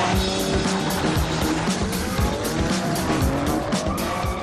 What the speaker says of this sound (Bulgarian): То не е кола, не е ракета, то е драгстер.